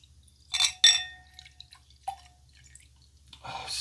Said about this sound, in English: Let's go ahead and get this final pour.